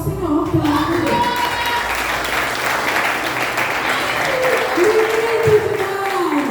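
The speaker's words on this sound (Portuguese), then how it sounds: "Vamos aplaudir o Senhor, pelo amor de Deus." A church congregation applauds in steady, dense clapping that lasts throughout, with voices audible over the applause.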